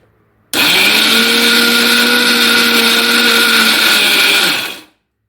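A mixer grinder whirs loudly as it grinds coconut for a pickle, starting abruptly, holding a steady high-pitched motor drone for about four seconds, then winding down to silence.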